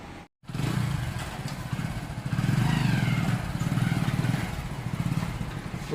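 A Hero Passion motorcycle pulls a 3x5 bike trailer with a 15-inch-high bed on a test run, its engine puttering steadily and close with a faint rattle, swelling as it picks up speed.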